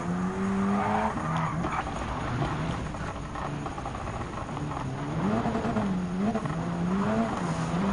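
A Group B rally car races on the Barcelona rallycross circuit in Gran Turismo 7, its engine revving continuously while tires repeatedly squeal and skid, loud and close throughout.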